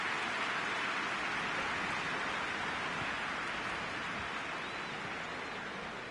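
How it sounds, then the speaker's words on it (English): Rain falling during a match in a football video game: a steady, soft hiss of rainfall, even and continuous throughout, heard alone at low level. "Rain starting to fall here."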